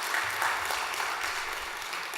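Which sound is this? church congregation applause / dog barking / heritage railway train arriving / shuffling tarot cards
church congregation applause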